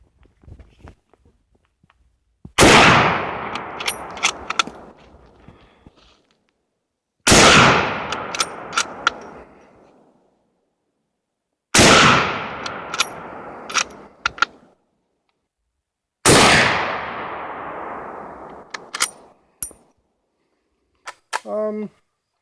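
A Husqvarna Model 46A rifle fires four sharp, loud shots at spaced intervals outdoors, each followed by a decaying echo and faint mechanical clicks, with a brief rattle at the end.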